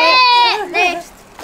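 A sheep gives a loud, close bleat in two quavering bursts, with a faint sound trailing after.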